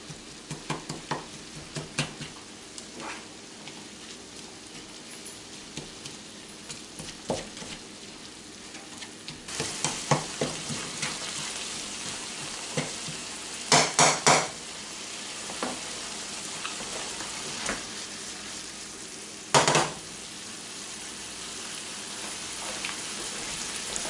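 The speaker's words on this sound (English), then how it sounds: "Make sure and crumble this ground beef while you're cooking it too." Ground beef fries and sizzles steadily in a pan while being broken up and crumbled, with scraping stir bursts and occasional louder clatters; no one speaks.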